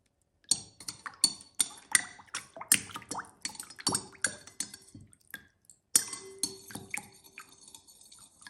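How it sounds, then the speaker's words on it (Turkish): A spoon stirring baking soda into a bowl of water, with a rapid series of close, sharp clinks and taps against the bowl continuing for several seconds with brief pauses, no voices. "Bir tatlı kaşığı kadar karbonatı suyun içerisine koyup karıştırıyorum."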